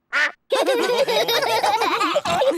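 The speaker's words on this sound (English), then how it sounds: "Daddy Pig, did you know you've got a duck on your head?" A cartoon duck quacks loudly and close, one short quack followed by a long run of rapid, warbling quacks, with no other voices.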